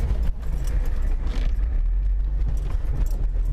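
Jeep with a rebuilt front axle crawling over a trail obstacle, its engine a steady low rumble under rattling and clunking from the suspension and body, close and continuous.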